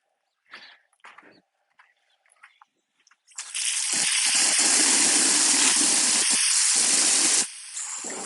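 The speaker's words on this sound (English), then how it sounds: "I'm going to fill that with water." A garden hose fills a freshly dug fence post hole for white vinyl fencing on a farm. A few faint knocks come first, then a loud, steady hiss of spraying water runs for about four seconds before easing off.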